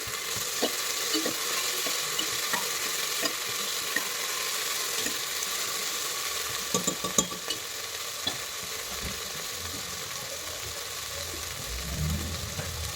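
Tomatoes frying in a pan while being stirred, a steady close sizzle broken by scraping and clinking strokes of the spoon all the way through.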